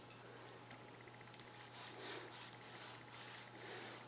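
A damp Scotch-Brite pad rubs along the edge of a slab, making faint, scratchy back-and-forth strokes that grow into a steady rhythmic series of rubs over a low constant hum.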